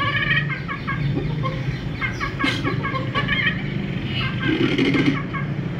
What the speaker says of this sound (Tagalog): Parang may manok dyan.